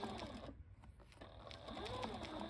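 A sewing machine back stitching the curved edge of a two-layer RV seat cushion cover, a quiet close mechanical whir with rapid needle ticks that briefly drops in pitch before running on steadily.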